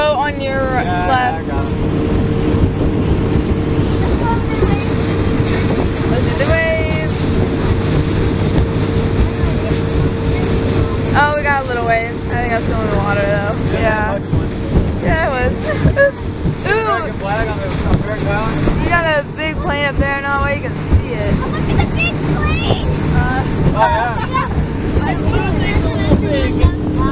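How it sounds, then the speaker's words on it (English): Steady motorboat engine drone with wind buffeting the microphone, while people talk loudly over it throughout. "Boat on your left."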